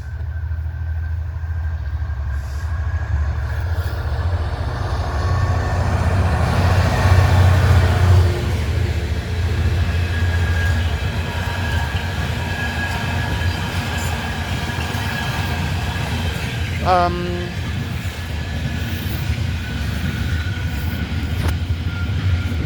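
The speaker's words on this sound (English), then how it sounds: "I arrived just as the train was coming" A train pulls in at an old platform. A steady, fairly loud rumble of rolling stock carries through most of the clip, with rail clatter and a brief high wheel squeal near the end.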